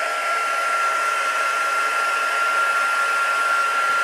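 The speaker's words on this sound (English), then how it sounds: "We are now going to heat our tool up" An embossing heat tool blows hot air in a steady, loud, close whirring hiss with a constant high whine and no change in level, like a small hair dryer running alone.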